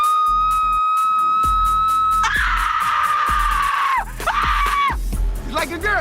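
A person screaming on a television set, long loud high-pitched shrieks near the mic, preceded by a sustained tone, with voices around.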